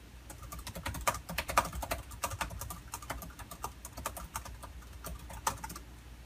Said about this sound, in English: you're looking at me typing into the group chat